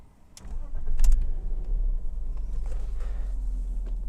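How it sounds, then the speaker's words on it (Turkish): A BMW E46 320i engine turns over and catches close by, then settles into a steady, low idle rumble that continues to the end. "Aracımı çalıştırıyorum."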